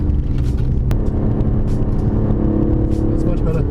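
An Aston Martin touring car's engine rumbles steadily at close range throughout on the Sepang race track, with a constant low drone and no clear passes.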